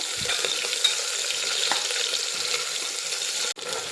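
Sliced onion frying in oil with whole spices for cooker-style masale bhat, giving a steady close sizzle throughout with faint stirring taps and a brief dip near the end.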